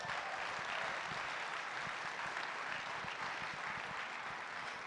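A large audience at an awards celebration breaks into a sustained round of applause, dense steady clapping filling the whole stretch at moderate distance with no voices on top.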